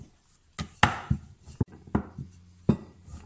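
A rolling pin works nimki dough thin on a rolling board, giving a series of irregular wooden knocks and thuds with soft rolling rumble between them, close and moderately loud.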